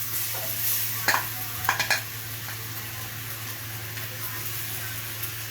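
Kofta curry mixture stirred in a small wok (kadai) over a steady sizzle, with a few distinct scraping knocks of the spoon against the pan early on, then a continuous frying hiss.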